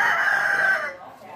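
A fighting rooster crows once, close and loud, the call holding steady before trailing off and fading into quiet.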